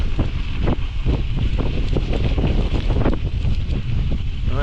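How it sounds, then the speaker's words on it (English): Strong wind buffets the microphone on a winter bike ride in Denali National Park, a loud continuous roaring rumble with gusty surges throughout, no voices. "Wind is really picking up."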